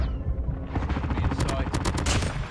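Rapid automatic fire from an MX9 gun in a shooter video game, loud bursts of dense crackling shots following one another with barely a pause, while a player talks over them.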